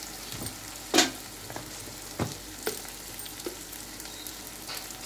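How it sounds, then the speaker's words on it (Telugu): Ginger garlic paste fries in a pan with a continuous soft sizzle, broken by a few sharp spatula scrapes and taps, close up and without voices. "చూడండి, అల్లం ఎల్లిగడ్డ పేస్ట్ కూడా మంచిగా మగ్గింది."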